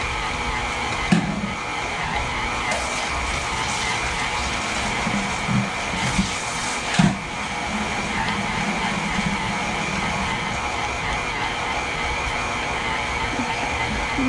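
An electric mixer at slow speed creams cream cheese pound cake batter, a steady continuous whir with a few soft knocks against the bowl, with no talking.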